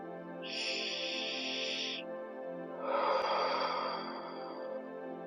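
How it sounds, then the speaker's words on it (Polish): A long, loud breath pushed out through the mouth after a nasal inhale during guided meditation, a steady rushing exhale of a few seconds, preceded by a softer hiss and set over a quiet musical background. "Rób wdech nosem i długi, głośny wydech ustami."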